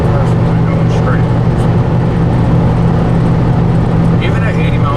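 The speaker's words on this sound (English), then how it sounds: "the engine noise and like the cabin, it's a little noisy" Steady low engine drone and road rumble fill a car cabin at about 80 miles per hour, a constant loud hum with faint rattles on top.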